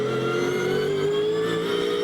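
GT race car powering out of a corner at Rockingham during a British GT Championship race, engine droning loud and steady with a rising pitch as it accelerates, heard from onboard without any talk.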